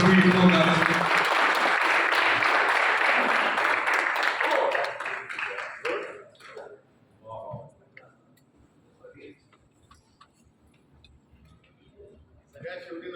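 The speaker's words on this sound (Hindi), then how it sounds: "एक बार जोरदार तालियां" Loud applause from a press-conference audience for the cast of Khashiram with Sanjay Mishra, dense clapping for about five seconds, then tapering into scattered claps and faint chatter.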